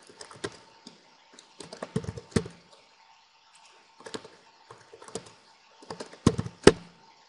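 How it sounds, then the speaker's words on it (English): Keystrokes on a computer keyboard come in short, uneven bursts separated by pauses, close and fairly clear over a quiet background, with no talking. "I'm going to type in calculator"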